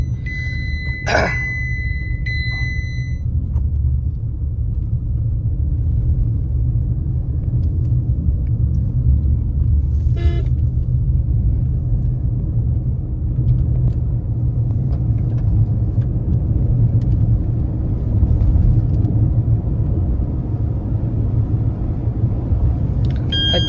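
Steady low road rumble inside a Tata Punch electric car driving on a road, with no engine note, a constant tire and cabin hum throughout, and a few short electronic beeps near the start.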